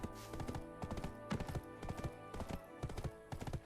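Steady clip-clop of a horse's hooves from the Black Desert video game, a quick, even galloping rhythm of hoofbeats over a continuous music-like backdrop with no talking.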